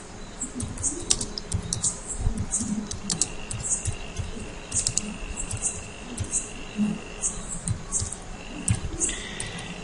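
Steady, rapid keystrokes on a computer keyboard as a C program is typed, continuous clicking close by with a faint high chirping in the background and no talk.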